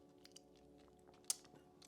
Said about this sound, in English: It's like it's good when you chew into it for the first couple times.